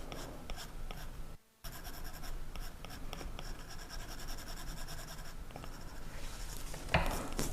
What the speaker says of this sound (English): I'm right now just taking the pencil and shading in the areas that need to be black.